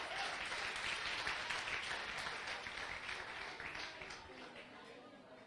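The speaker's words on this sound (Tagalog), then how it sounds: "malakas na palakpak para kay Lord ngayong gabing ito" Congregation at an Assemblies of God church service applauding together, a steady dense wash of clapping that holds for several seconds before gradually thinning and fading.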